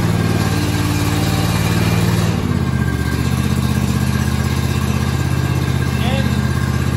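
A John Deere S240 lawn tractor engine cranks, catches and runs, a loud steady close-up rumble with a brief change in pitch about midway as the choke is eased, continuing at an even idle.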